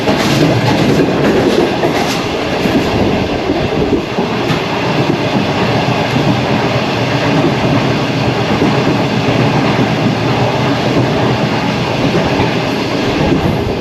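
The upgraded 27 Up Shalimar Express passenger train runs between Karachi and Nawabshah, Pakistan, heard from inside the carriage as a loud, constant rumble with clickety-clack from the wheels and no talk.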